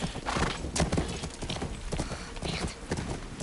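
Horse hooves clip-clop in The Last of Us Part II, a rapid irregular clatter of hoofbeats with a neigh, loud and close, alongside game noise.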